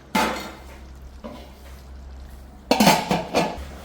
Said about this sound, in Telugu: ఇప్పుడు మూత పెట్టేసుకుందాం